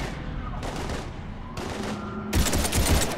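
Rapid automatic gunfire in the video game Mass Effect 3, sustained bursts that swell louder near the end, with battlefield noise and faint shouting underneath.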